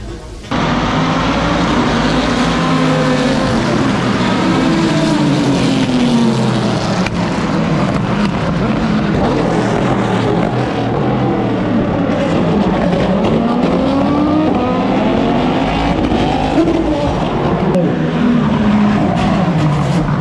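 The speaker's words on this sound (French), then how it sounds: "Je ne sais pas si vous m'entendrez très bien parce que ça hurle avec les voitures" Classic race cars, including a Ferrari 275 LM, scream continuously around the hairpin at the Spa circuit, a dense roar of overlapping engines with rising and falling pitch sweeps as cars brake and accelerate past, loud and unbroken.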